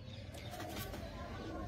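Pigeons coo in a breeding loft, soft low throaty burbles repeating through a short stretch with a steady murmur of background noise.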